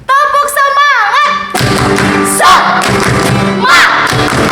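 Children at a Sunday school service do a rhythmic clapping chant, tepuk semangat: loud sung and shouted voices with thumping claps and cheering, a lively group chant.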